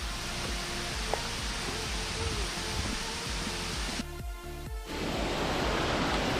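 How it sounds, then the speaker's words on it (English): A small mountain stream rushing steadily and close, a constant broad hiss that briefly thins for a moment before surging back at full strength. "during the descent we see a small water stream flowing down."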